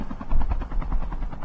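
A video game helicopter's rhythmic rotor thumping chops steadily at close range, loud and continuous throughout.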